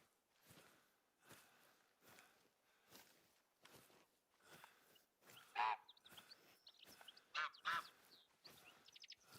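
Geese honk in short bursts overhead in the hunting game TheHunter: Call of the Wild, set in Finland, over a steady rhythm of soft crunching footsteps, with the calls growing louder near the end.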